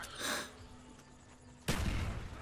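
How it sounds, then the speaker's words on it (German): Quiet gunfire from the Mustang and Sally pistols in Call of Duty: Black Ops on the Call of the Dead zombies map: a short muffled burst, a lull, then a louder booming blast that lingers. "Schieß mal ein paar Schüsse von der Mustang und Sally drauf"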